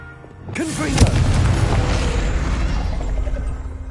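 A Confringo blasting spell goes off in Hogwarts Legacy: a rising whoosh breaks into a loud, deep boom that rumbles on and fades slowly.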